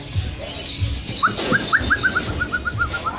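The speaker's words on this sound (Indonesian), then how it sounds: "Ini murai semua" Caged magpie robins chirp near the listener, giving a quick run of bright, repeated tweets that follow one another in a steady, falling series after a few scattered calls.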